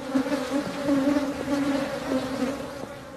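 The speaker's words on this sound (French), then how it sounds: "À cette heure, les abeilles semblent un peu agressives." Honeybees buzz steadily nearby at a hive in Joal, a dense droning hum with several insects overlapping, no voices present.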